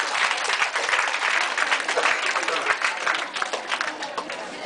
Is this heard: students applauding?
yes